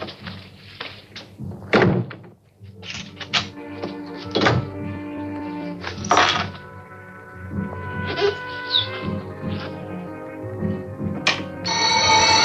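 An alarm bell rings in repeated bursts, mixed with thuds and what sounds like a door slamming, fairly loud and close, with no speech.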